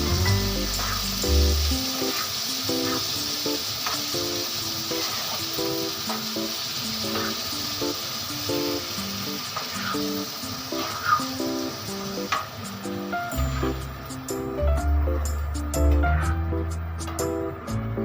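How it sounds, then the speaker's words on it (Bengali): Boiled egg tarka being stirred and fried in a pan, with a steady sizzle under background music and occasional spoon clinks and scrapes across the whole stretch. "সেদ্ধ তরকাটা দিয়ে একটু নাড়াচাড়া করে নিচ্ছি"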